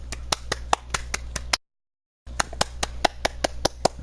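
Two bursts of sharp hand claps from a gaming livestream, each a quick run of about seven or eight crisp claps, close and fairly loud, separated by a short silent gap.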